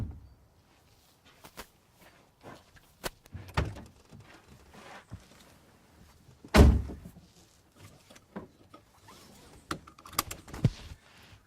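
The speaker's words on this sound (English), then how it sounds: "Left hand goes for the door latch, and I'm out of the vehicle with a two-handed grip on my pistol" A car door latch clicks open and the door thunks as someone exits the vehicle, with scattered knocks, rustles and shifting bumps over several seconds, one heavier thump standing out midway.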